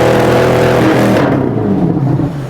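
A sports car with a stock exhaust revs loudly, a strong throaty exhaust roar that holds and then falls away as the revs drop.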